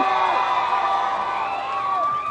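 A large crowd at a Pheu Thai election rally in Bangkok's Don Mueang district cheers and shouts continuously, loud and close, with voices rising and falling together.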